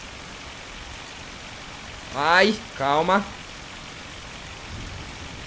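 Steady rain falls in the video game My Summer Car, a constant broadband hiss running under the whole stretch, while someone speaks briefly in the middle.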